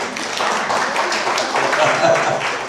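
Audience clapping at a graduation party, a continuous dense patter of applause from a crowd in a room, steady and moderately loud throughout, with voices mixed in.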